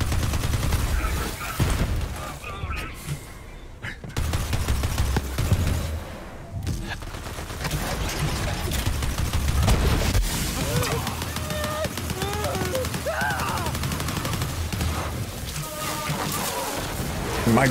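Rapid gunfire from an on-fire gun in Borderlands, a dense stream of shots and impacts running almost continuously under game music, with someone talking over it.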